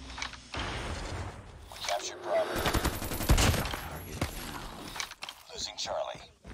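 Krig 6 rifle in Call of Duty ranked play, rapid bursts of close gunfire mixed with mechanical clatter and glassy impacts, while someone talks over the shooting.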